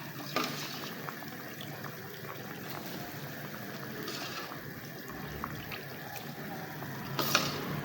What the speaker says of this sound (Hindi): अब इसमें चावल ऐड कर देंगे।